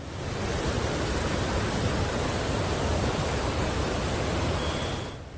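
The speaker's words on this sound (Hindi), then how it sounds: "लहरों की आवाज आपको डरा सकती है।" Floodwater roaring through the opened gates of the Pandoh dam in Mandi, Himachal Pradesh, after heavy rain: a loud, dense, unbroken rush of churning water that holds steady before fading at the very end.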